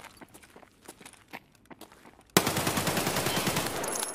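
Sustained automatic gunfire in Escape from Tarkov, first a few quiet distant shots and footsteps, then a sudden close burst of rapid, loud shots that continues without pause to the end.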